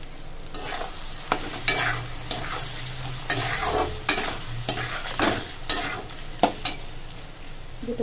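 Salt and turmeric fry in a pan for an Eid meat dish as a spoon scrapes through them in repeated rhythmic strokes, each stir sharp and close over a steady sizzle.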